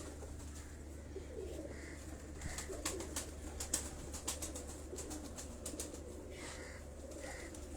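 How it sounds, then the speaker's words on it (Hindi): Pigeons from a breeder's flying stock in Defence, Karachi, coo softly amid repeated sharp bursts of flapping wings, close by over a steady low background hum. "ये जो कबूतर मैं आपको दिखा रहा हूँ"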